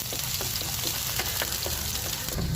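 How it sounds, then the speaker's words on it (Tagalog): Garlic dropping into hot cooking oil for sautéed sponge gourd with sardines, giving a steady close sizzle with small crackling pops throughout, no talking. "Ilalagay na natin yung bawang."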